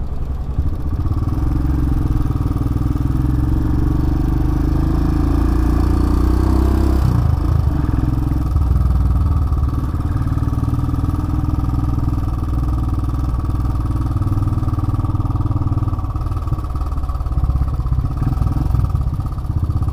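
A 2018 Royal Enfield Himalayan motorcycle rides through congested city streets, its engine a steady, loud mid-range drone with a brief shift in tone partway through, continuous and without talk.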